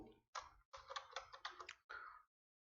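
Typing on a computer keyboard, a quick burst of plastic key clicks in several short clusters, close and quiet, then silence, with no voices.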